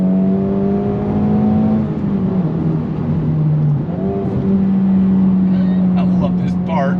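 Honda Civic Type R FL5 with a titanium exhaust driving through a decreasing-radius bend, its loud engine note holding steady, dipping, then rising again, with crackles near the end as someone talks over it.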